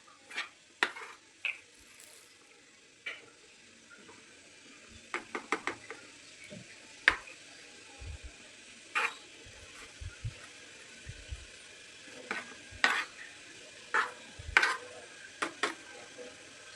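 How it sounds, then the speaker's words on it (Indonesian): Batter for steamed pandan putu ayu cake is stirred in a bowl, producing scattered faint clinks and scrapes of a spoon at irregular intervals in a quiet kitchen. "Nah ini diaduk-aduk dulu."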